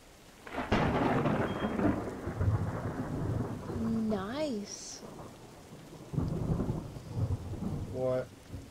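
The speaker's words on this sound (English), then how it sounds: "That thunder in the game." Rolling thunder in the Stay Out video game booms loudly over steady, hissing rain, with a rumble swelling early and fading, and brief synthetic warbling tones mid-way.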